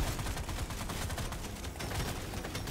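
Turret gunfire in Deep Rock Survivor, a rapid, continuous crackle of automatic shots layered with dense game effects, steady and fairly faint, with no talk.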